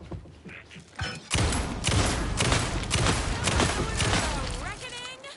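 Gunshots in Alan Wake 2 go off as a string of heavy, close bangs that run for several seconds, with a voice speaking over the firing.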